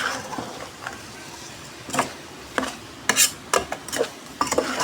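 Beef being sautéed in a pan for papaitan, with intermittent stirring scrapes and clinks of a utensil against the pan over a faint low background, growing busier toward the end.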